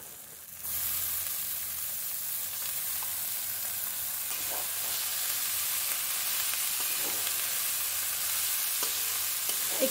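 Cabbage and potato curry sizzles steadily in a pan after the cabbage goes in, a loud continuous frying hiss broken by a few scraping stirs, close up with no talk.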